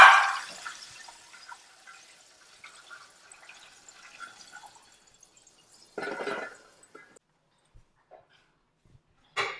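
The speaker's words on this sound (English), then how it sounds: "I'm going to pour this out, all this grease off of this." Hot grease is poured off a pan of fried okra, starting with a brief splashing gush that quickly fades into faint scattered trickles and drips, then a couple of short pouring bursts later on.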